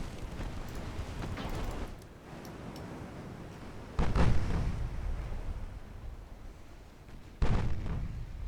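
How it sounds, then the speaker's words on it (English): Torpedoes launched at a destroyer in a naval combat video game: a steady low rumble of engines and sea runs throughout, broken by two sudden loud booming blasts a few seconds apart, each fading into a rolling roar, with no voices. "We need to fire the torpedoes at the destroyer."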